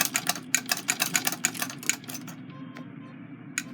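A Singer 127 lock-stitch treadle sewing machine stitches in a quick, even run of sharp mechanical clacks for about two seconds, then slows to a quieter whir with a few isolated clicks.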